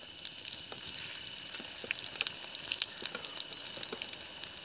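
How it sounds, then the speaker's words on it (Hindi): Second batch of potato fries deep frying in hot oil at a forest campsite, a steady bubbling sizzle with scattered crackles and pops, close and continuous with no talking. "तो दूसरा लॉट भी मैं डीप फ्राई करने के लिए डाल देता हूँ।"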